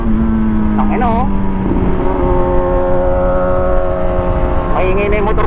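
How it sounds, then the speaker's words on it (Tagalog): A Honda PCX160 scooter is ridden at speed, giving a loud, steady engine drone with rushing wind throughout and brief pitch shifts near the start and end. "Maingay na yung motor ko, 80 pa lang."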